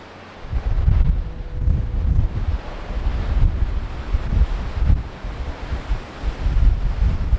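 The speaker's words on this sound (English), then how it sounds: "Current wind speed is about 35 miles per hour" Strong Storm Eunice wind in Cornwall, around 35 mph, roaring and buffeting hard against the microphone in continuous gusting surges with a deep low rumble and no speech.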